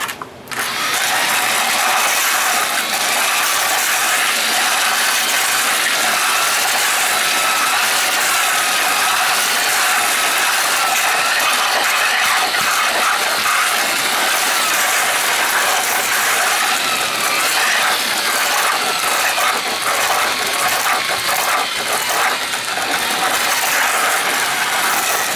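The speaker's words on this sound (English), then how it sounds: "Next step is to mix the dry ingredients." Dry concrete ingredients with PVA fiber being mixed by a power mixer, a loud continuous grinding, rattling churn that holds steady and close for the whole stretch with no voices.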